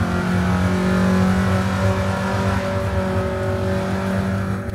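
Angkot minibus engine accelerating hard in a driving video game, a continuous loud mid-pitched roar with steady tonal engine drone throughout.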